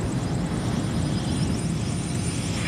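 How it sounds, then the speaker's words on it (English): A helicopter engine runs steadily near a volcano observatory during rock and gas sampling, giving a loud, continuous turbine whine and rumble with no pauses and no voices. "the helicopter's running"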